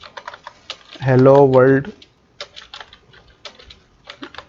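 Rapid clattering keystrokes come from a computer keyboard while JavaScript code is being typed, arriving in quick irregular bursts close by, with a short spoken word breaking in partway through.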